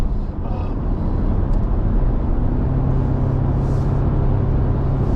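Toyota Tacoma pickup accelerating hard onto a highway, a loud, steady engine roar and road rumble from inside the cab with a low drone rising slightly as speed builds.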